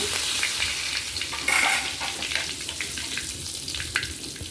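Mustard seeds frying in a little hot oil, a steady close crackling sizzle running throughout with a brief louder burst of popping partway through, no talk.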